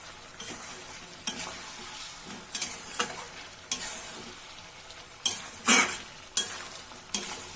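Kadai chicken masala with turmeric powder and Kashmiri red chilli sizzles in a pan while being stirred, with a steady frying hiss broken by repeated irregular scraping strokes of a utensil close by. No one talks.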